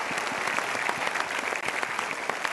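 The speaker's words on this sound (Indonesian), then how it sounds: "Kita berikan tepuk tangan." Studio audience applause on an Indonesian talk show, a continuous wash of clapping throughout the short stretch with no voices over it.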